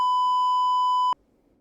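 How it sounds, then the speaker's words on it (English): A loud, steady electronic beep from Honkai: Star Rail holds for about a second with pure harmonic tones, then cuts off abruptly into near silence. "I love waking you guys up with the beeps."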